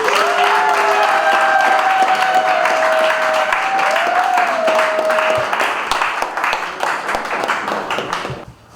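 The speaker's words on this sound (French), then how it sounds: "Applaudissons s'il vous plaît." Guests applaud at an official wedding ceremony, loud sustained clapping with a tonal sound gliding above it, then tapering off and fading near the end.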